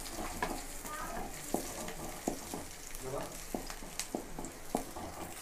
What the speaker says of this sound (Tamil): இஞ்சி பூண்டு போடுறோம், நல்லா வதக்கி எடுத்துக்கணும்.